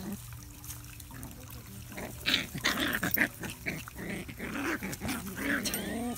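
A five-week-old Scottish terrier puppy growls and snuffles in bursts during play, close and fairly soft, with a little background noise.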